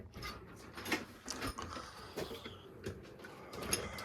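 A drawer of a US General 44-inch tool cabinet slides open with clicks and rattling slide noises, several uneven mechanical bursts, close and fairly quiet.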